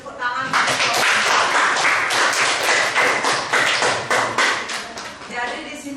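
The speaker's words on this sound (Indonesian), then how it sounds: "Silakan kasih tepuk tangan." Students in a classroom applaud after a group presentation, a loud burst of close, uneven hand clapping and taps that carries on for several seconds with a voice speaking over it.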